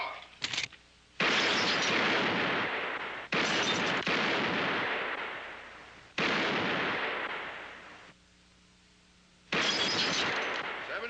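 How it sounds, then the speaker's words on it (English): Rapid gunshots ring out in a shooting contest, loud cracking bursts in several long clusters separated by short pauses, each burst trailing off with echo. "Mighty good shooting, Charlie."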